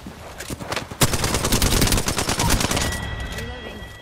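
Rapid automatic gunfire in Apex Legends, loud and continuous bursts of shots close up, tapering off toward the end with game effects and faint voice underneath.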